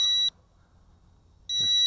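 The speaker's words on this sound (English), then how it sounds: "It does have that annoying beep" An SY X23 Space Explorer nano drone in headless mode gives two short, bright electronic beeps, one at the start and one near the end, with near silence between them.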